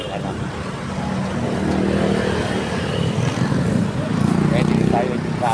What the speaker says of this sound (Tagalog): Kaya dito tayo yung traffic ko ngayon.